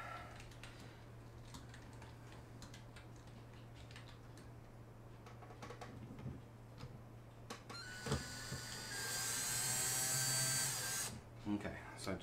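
A power drill drives screws into a desktop PC case during assembly. Short, faint bursts are followed by a louder, sustained whir that lasts a few seconds, over a steady background hum.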